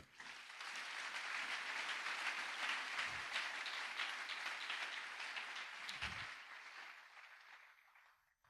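Church congregation applauding together, a dense sustained clapping that fills the room for several seconds before thinning out and fading near the end.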